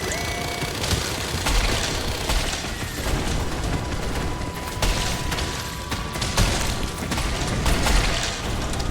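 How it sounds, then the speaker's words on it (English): Sustained machine gun fire in the roguelite game Drill Core, a dense continuous rattle of rapid shots mixed with booms and explosions, loud and unbroken throughout. "And I will simply keep using my machine gun."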